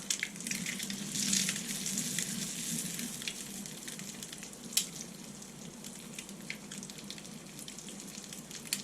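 A breakfast sandwich fries in a pan, with steady soft sizzling and crackling and a few sharper pops, close and fairly quiet throughout.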